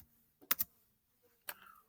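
A few quick clicks on a keyboard or calculator keys, a pair of sharp taps followed by a single tap after a short pause, close and crisp in an otherwise quiet room.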